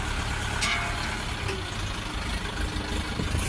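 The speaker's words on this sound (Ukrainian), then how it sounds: "Гідравліка працює." A Lovol 354 Plus tractor with cab runs its hydraulics, a steady low engine rumble with a faint whine on top, fairly close and continuous, with occasional small clicks.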